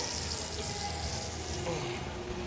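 Water runs steadily from a tap during a cooking masterclass, a soft continuous hiss with faint kitchen clatter underneath.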